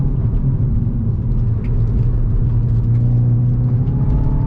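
A 2022 Hyundai i20 N pulls hard at full throttle out of a corner on Pirelli tyres, a loud, steady engine drone heard from inside the cabin with a rising whine and no talk.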